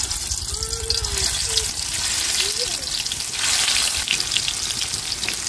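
Food frying in a wok for an egg and cabbage dish, a loud, dense, continuous sizzle heard up close, with a faint voice briefly audible underneath.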